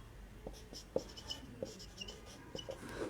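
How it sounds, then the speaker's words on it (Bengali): Quick scratchy strokes of writing on a board in a chemistry lesson, a run of short taps and scrapes in an otherwise quiet room. "আমি লিখে দিচ্ছি"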